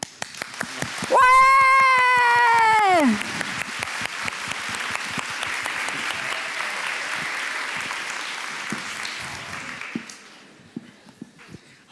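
Audience clapping at a positive-parenting conference fills the room steadily for about nine seconds, starting after a loud drawn-out shout and fading out near the end.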